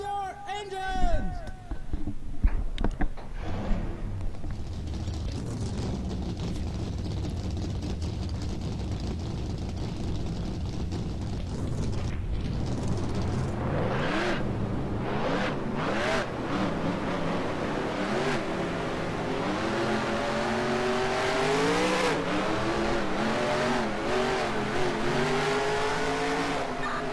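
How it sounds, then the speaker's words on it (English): Race car engines in the NASCAR Racing 2003 video game roar and rev at the start, a dense steady drone that swells and shifts pitch as the cars accelerate, loud and continuous under occasional voice. "Drivers, start your engines!"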